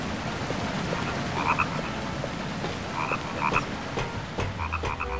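Frogs croaking in The Nightmare Before Christmas: Oogie's Revenge video game, a steady chorus of repeated croaks layered over a dense, noisy ambient bed with no talking.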